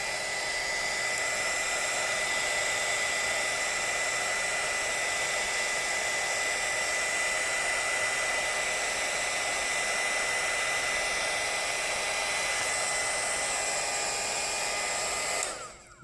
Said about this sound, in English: we're going to be heating up using a heating blow dryer